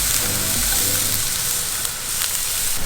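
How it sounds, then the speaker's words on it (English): Yellow onions frying in sunflower oil in a stainless steel pan over medium-high heat, a loud, steady, close sizzle with a bright hiss that holds without a break and has no speech over it. "Now we got a stainless steel pan, medium high, and add some sunflower oil."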